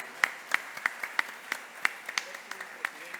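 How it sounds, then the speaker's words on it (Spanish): A small church audience claps sparsely after a pastor's introduction at a Baptist conference panel, roughly a dozen distinct, evenly spaced claps standing out over a quiet room. "Un fuerte aplauso, ¿no?"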